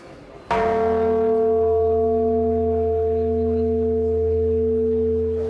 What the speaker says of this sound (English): this little pecking bird who tings away on the bells there